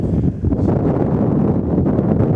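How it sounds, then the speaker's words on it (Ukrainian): Strong gusts of wind roaring steadily across an open rural area on a hot, dry day with fires burning nearby, a loud continuous low rumble buffeting the microphone throughout. "Такі великі пориви вітру, така спекотна погода"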